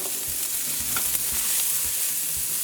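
Pimento peppers sizzle steadily in a hot frying pan of oil with ginger and garlic for Trini fried rice, a close, continuous crackle with occasional stirring knocks.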